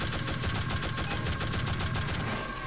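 Rapid automatic gunfire from a weapon in Tribes: Vengeance, a steady, fast rattle of shots held loud and close throughout with no speech.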